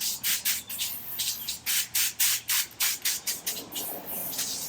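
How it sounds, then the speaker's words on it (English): A spray bottle squirts water onto a 2025 GMC Yukon windshield for window tinting, making about a dozen sharp hissing bursts in quick, fairly regular succession at close range. "Spray water in there."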